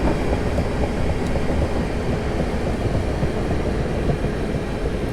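A Class 455 electric train in Train Simulator 2018 slows to a stop at Wimbledon station, a steady loud low rumble of wheels and motors running throughout with no speech.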